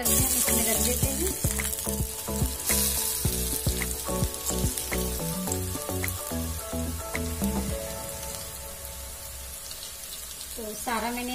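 Palak vadi pieces laid one by one into hot oil in a heated pan, giving a steady close sizzle with scattered crackles, fading somewhat toward the end.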